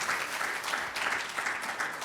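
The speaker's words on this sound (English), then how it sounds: "let's have a round of applause for a really great" Audience clapping after a panel discussion at a joint university technical conference, a brief steady burst of many hands at moderate distance.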